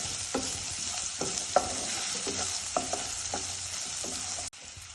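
Chopped onions frying with cumin in a pan, a continuous close sizzle broken by rhythmic spatula scrapes and taps every half second or so, with no talking.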